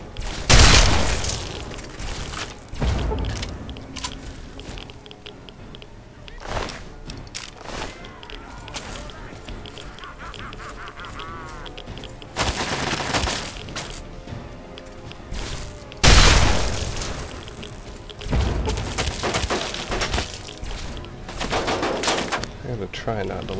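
Gunfire in the video game Fallout 3, Operation Anchorage: loud bursts of shots and booms come in clusters at the start, around the middle and again later, with quieter ambient game sound and scattered pops in between.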